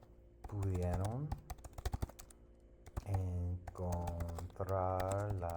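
Rapid clicking of keys on a computer keyboard runs close and clear throughout, in irregular bursts, overlapped by a voice speaking at moderate volume.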